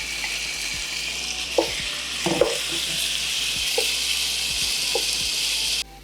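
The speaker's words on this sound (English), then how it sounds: "we're gonna throw in our steak to let it cook" Strips of steak sizzle steadily in an oiled pan over medium heat, a constant bright hiss with a few soft clinks and stirs breaking through before it cuts off near the end.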